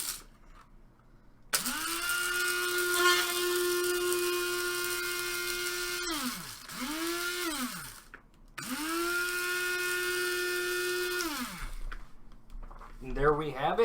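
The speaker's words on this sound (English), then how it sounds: "Let's grind it up." A countertop grinder whirs through Pablo's Pride organic dark roast whole coffee beans in loud sustained runs, with short pauses and a quick restart between, and a voice speaks faintly before and after.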